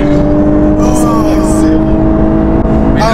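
A Lexus LC 500h sports car accelerates hard, its loud engine drone climbing steadily as heard from inside the cabin, while people's voices break in over the roar.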